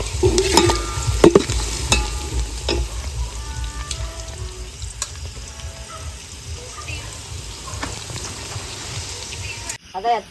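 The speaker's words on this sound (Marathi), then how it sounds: "आता यात चांगला खोबरा टाकून घेतलाय कांद्याबरोबर तळायला." Grated coconut and onions frying in a pan over a wood fire, a steady sizzle with stirring clatter and scraping running throughout, with a low rumbling bed beneath and voices speaking over it at times.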